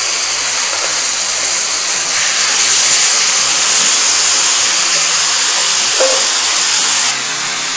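Apricots dropped into fruit juices already heated to a high temperature in a pan, giving a loud, steady sizzling hiss that runs for several seconds before easing slightly at the end.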